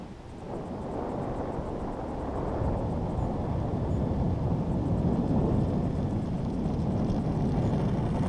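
Continuous rushing drone of a radio-controlled F-16 model jet flying, loud and steady for the whole stretch, swelling slightly as it passes, with no voices over it.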